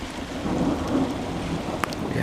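Thunder rumbles low beneath steady heavy rain during a coastal thunderstorm in Kent, England, a dull, distant roll under the constant hiss of falling water, with one sharp drip or crack near the end.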